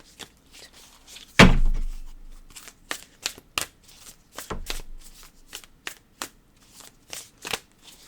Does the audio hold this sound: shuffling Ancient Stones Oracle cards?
yes